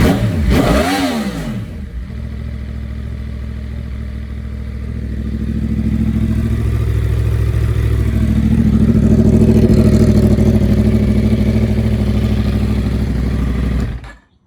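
A Yamaha R1 sport motorcycle engine, just fixed of a kinked fuel line, gives one quick rev, then settles into a loud, steady idle that rumbles on before cutting off abruptly.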